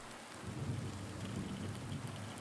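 Rain and thunder in the Silent Hill 2 Remake game: a dense, steady downpour hiss over a continuous low rumbling roll of thunder, with no voices.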